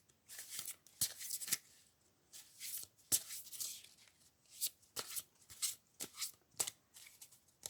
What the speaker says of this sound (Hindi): थोड़े से और शफलिंग